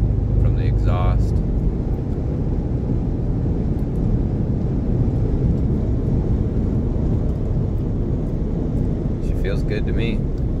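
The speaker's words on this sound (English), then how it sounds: "Nice little rumble from the exhaust." Low, steady car exhaust rumble heard from inside the moving car, continuous and fairly loud, with a few brief squeaks or chirps cutting in at the start and near the end.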